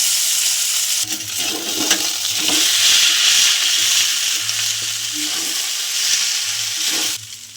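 Chow mein noodles being stir-fried in a kadai, a loud continuous sizzle with rustling stirs and scrapes that swells and eases, cutting off near the end.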